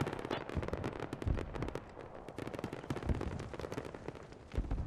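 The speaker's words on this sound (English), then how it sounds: "So the mortars are pounding the Canadian" Mortar rounds and autocannon fire boom and crackle in a modern military video game battle, a dense, continuous barrage of loud overlapping blasts and rapid bursts with no pauses and no talking.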